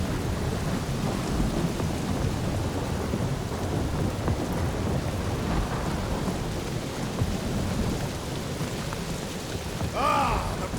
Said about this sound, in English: Lightning out there! Never seen anything like it! Meteorological suicide is what it is!